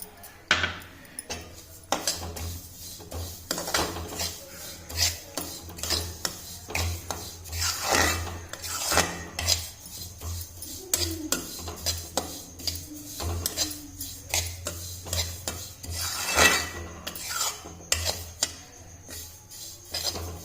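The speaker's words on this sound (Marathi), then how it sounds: "पूर्ण भाजायचे आहे तीळ छान" Sesame seeds dry-roasting in a pan for a sesame and peanut chutney, stirred with a utensil that scrapes and clinks against the metal in irregular bursts over a low steady hum, close and moderately loud, no voices.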